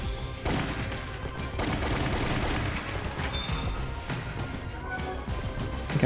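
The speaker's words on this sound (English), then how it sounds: "Looks like we got some kind of quad rocket launcher." Quad rocket launcher fire in Resident Evil Umbrella Chronicles, heard as dense, continuous blasts and crashing explosions with no pauses over six seconds, loud and close, mixed with game effects and no talking.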